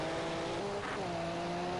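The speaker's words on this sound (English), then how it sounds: "Buzzing the limiter as Edu coming down the gears" A Group A touring race car at Hockenheim holds a steady, high-pitched engine buzz against the rev limiter while coming down the gears, its tone stepping slightly in pitch, loud and close with no talk.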